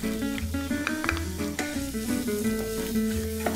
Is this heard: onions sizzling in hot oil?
yes